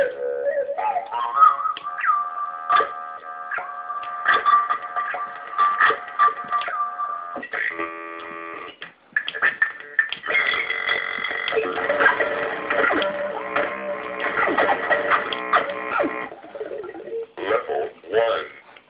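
Warbling, glitchy electronic tones from a circuit-bent Speak & Math repeat in a loop, shifting pitch and stuttering, fairly loud and close with no one talking over them.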